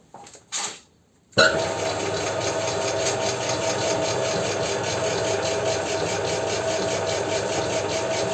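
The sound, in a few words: compound feed making machine starting up and running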